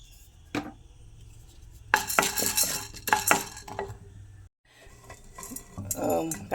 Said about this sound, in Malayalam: കടലപ്പരിപ്പ് നമുക്ക് വറുത്ത് കോരി മാറ്റി വയ്ക്കാം.